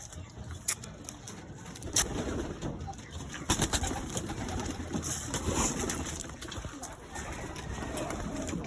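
Racing pigeons arrive at a loft in Muntinlupa, Manila, with soft, close cooing and wing flutters over a noisy outdoor background. Brief sharp clatters are scattered through.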